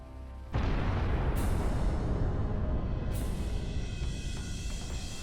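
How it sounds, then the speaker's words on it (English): Russian armored vehicle carrying infantry striking a land mine on a mined road, a sudden loud blast cutting in from near silence and followed by a sustained, heavy rumbling roar that slowly fades. "Russian armored vehicle with infantry hits a mine and loses control of the vehicle"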